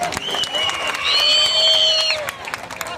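A crowd claps in applause at a Dahi Handi celebration in Amravati dedicated to women, a dense patter of hands over a brief sustained whistle-like tone, fairly loud and close, with a voice heard around it.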